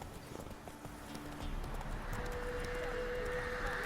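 Roach, a horse in The Witcher 3 on Switch, gallops with steady rapid clip-clop hoofbeats, close and moderately loud, over a game soundscape with a sustained tone entering partway through.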